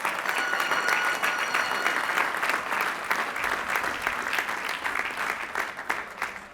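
Commencement audience at Lehigh University applauding Educational Specialist and Master's degree recipients, a dense, steady roar of many hands clapping that holds at an even level throughout.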